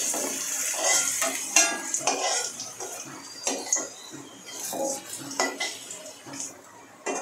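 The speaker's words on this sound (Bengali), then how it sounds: "এখন আমি আলুগুলো তুলে নেব" Lightly fried potatoes are lifted out of a frying pan: repeated metal scrapes and clinks of a utensil against the pan over a soft sizzle, irregular and close, with no voices.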